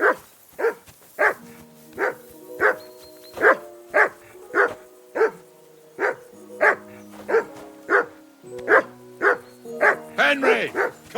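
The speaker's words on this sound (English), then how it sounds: "Call that dog to heel!" A dog in the medieval video game Kingdom Come: Deliverance 2 barks repeatedly in a steady, evenly spaced series of loud, close barks, ending in a quicker excited flurry.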